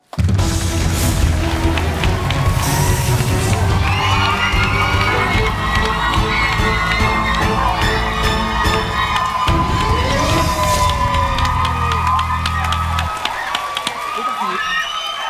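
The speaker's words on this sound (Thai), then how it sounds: "เรียกเสียงกรี๊ดกราดทั้งสตูดิโอเลย" A large studio audience screams and cheers loudly and continuously, a dense roar of excited voices with music playing underneath.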